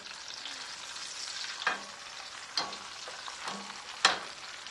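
Steady sizzling of a breaded steak frying in a pan, with a few sharp scrapes and clinks of a utensil turning it.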